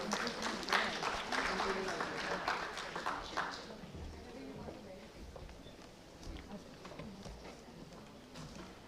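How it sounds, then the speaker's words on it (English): Conference audience applauding, a dense wash of clapping for several seconds that thins and fades out as a voice carries on over it. "A big round of applause,"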